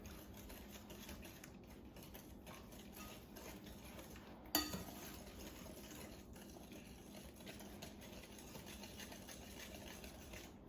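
An egg is mixed into brown sugar cookie dough in a bowl, a steady faint scraping and tapping of the utensil with one sharper knock partway through, no talking.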